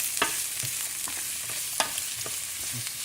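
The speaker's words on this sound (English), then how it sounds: "Stir it around, saute it for, I don't know, 5-6 minutes, maybe 10 minutes till it gets tender" Cucuzza squash sautéing with garlic in olive oil, a steady close sizzle broken by scattered clinks and scrapes of a stirring utensil against the pan.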